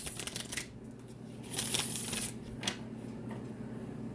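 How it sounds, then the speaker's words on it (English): Tarot cards are shuffled by hand, a few quick riffling bursts and soft papery slides, close and quiet with short pauses between. "So we have 2 more shuffles left here for Aquarius."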